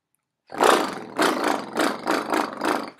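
Human voice mimicking a Harley Davidson motorcycle, a rough broadband rumbling roar that starts abruptly and then pulses in five or six loping throttle-like bursts, close and loud, with no talking.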